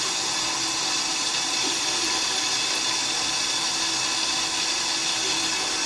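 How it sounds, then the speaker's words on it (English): A doll's hair held under running tap water: a constant rushing stream of water from a faucet, steady and moderately loud throughout, with no speech. "So just run it under the water for,"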